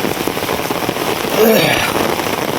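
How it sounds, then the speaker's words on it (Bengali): Heavy rain hammers down in a close, dense, continuous patter, with a brief louder swell in the middle. "প্রচুর পরিমাণে বৃষ্টি"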